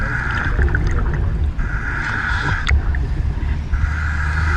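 A boat motor drones steadily on the Kentucky River during a search, a low rumble with a wavering higher whine, close and continuous throughout.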